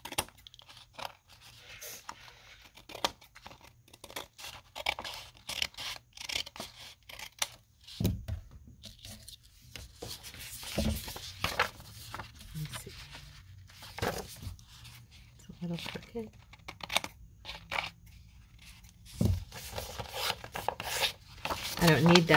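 Scissors snip and rub through a paper junk mail envelope being trimmed down for a flip pocket, with scattered crinkling and rasping paper noises, close and fairly quiet, continuing for a long stretch.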